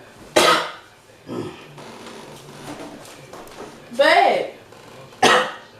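A man coughing in bursts at home, several sharp harsh coughs spaced apart, loud and close, with someone speaking briefly between them.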